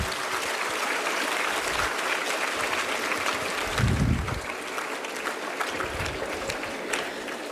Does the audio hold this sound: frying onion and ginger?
no